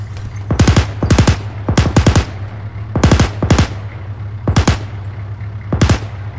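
In the game ArmA 3, a machine gun fires loud, close bursts of three to five rounds each, separated by short pauses, with no talk.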